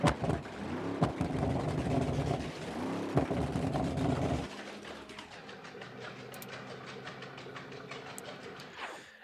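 A worn-out V8 454 car engine in BeamNG.drive revs roughly and loudly with uneven pulsing bursts, then drops to a rattling, lumpy idle with a faint whine.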